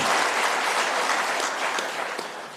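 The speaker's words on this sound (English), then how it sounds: "That deserves a round of applause." Steady, dense audience applause at a South African government Transport Month launch event, a continuous wash of many hands clapping that tapers slightly toward the end.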